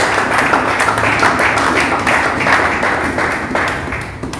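A church congregation bursts into applause, a dense, sustained wash of many hands clapping together at close range, holding steady before easing slightly at the end.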